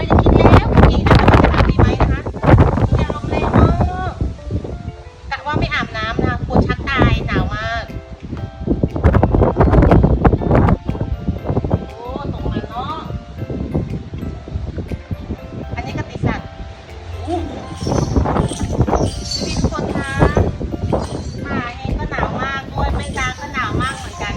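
Strong, cold wind gusts outdoors and buffets the microphone in loud, uneven surges with rustling underneath, while someone talks over it at intervals.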